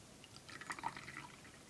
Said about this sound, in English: So I'm going to pour us a cup and then